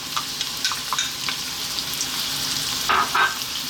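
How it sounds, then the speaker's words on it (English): Chopped onion goes into a hot pan with sweet potato for a coconut curry, a bright sizzle flaring up with a few stirring scrapes and crackles, close and alone. "We're now going to drop in our chopped onion"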